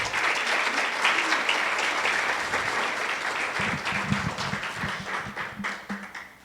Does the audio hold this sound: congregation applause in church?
yes